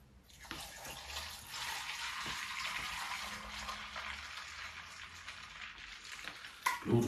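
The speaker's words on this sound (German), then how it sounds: "Dann gießen wir unser Cocktail auf." A cocktail is poured over a glass about one-third full of ice, making a steady close splashing and trickling that runs for several seconds, with a clink at the end.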